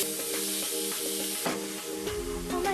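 Sofrito mix cooking in a pan, a steady close sizzle and crackle with a few stirring scrapes under a constant tonal hum.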